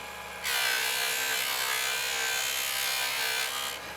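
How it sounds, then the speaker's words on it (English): Jewelry pressed against a spinning buffing wheel loaded with polishing compound gives a loud, steady, even whir with a rough rubbing hiss, starting sharply after a short quiet lead-in and stopping just before the end. "At full speed, I apply some of the compound, and I hold it right up against the wheel."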